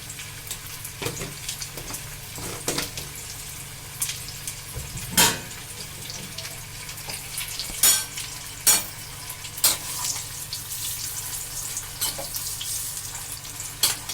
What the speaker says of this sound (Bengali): তেলেতে ভালো করে কষে নেবো নেড়ে নেড়ে